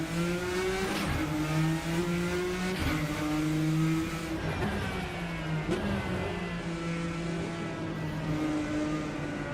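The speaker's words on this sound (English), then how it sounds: "At least this car sounds good." Endurance race car engine in the Project Motor Racing video game, a steady mid-pitched drone with strong harmonic whine that dips and rises through several gear changes over about ten seconds, loud and continuous with no talk.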